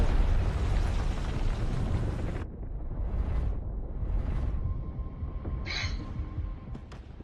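Artillery barrage in a video game: heavy rumbling explosions roll in, one big boom dying away, then further distant blasts and whooshes with a sharp crack near the end.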